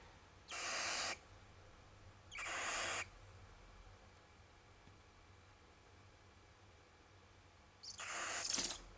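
A baby barn owl gives three breathy, hissing screeches. Two come early and a longer, rougher one comes at the end, each about half a second or more, and all sound quiet and close against a faint background hiss.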